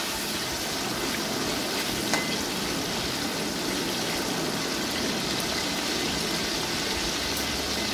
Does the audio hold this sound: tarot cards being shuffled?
no